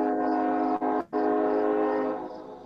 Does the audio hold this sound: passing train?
yes